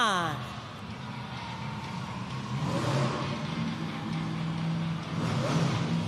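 Megalodon, a shark-themed monster truck driven by Ashley Sanford, revs its engine in a Sacramento arena during a Monster Jam event, a sustained loud roar rising and swelling over arena noise and a voice talking throughout.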